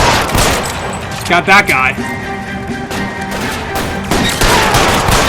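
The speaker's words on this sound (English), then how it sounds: "Oh, God, I'm getting shot." Rapid gunfire erupts in a shootout in the video game LA Noire Remastered, a loud burst of clustered shots with crashes under overlapping speech, followed by a few scattered later shots.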